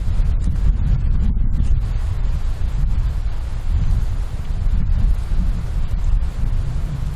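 Strong wind gusts roar steadily against a solo canoeist paddling on a lake, a dense close rushing noise with buffeting across the microphone and no voices.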